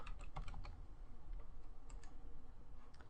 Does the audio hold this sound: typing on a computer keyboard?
yes